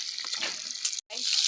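Fish roasting over a wood campfire at night, a steady close sizzling crackle that cuts out briefly near the end and then resumes.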